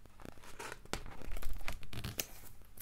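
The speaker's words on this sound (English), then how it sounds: "They're trying to cut the seaweed with their scissors." Scissors snipping and tearing at seaweed, a close series of crisp cutting, rustling and ripping noises in an uneven rhythm, heard alone as a story sound effect.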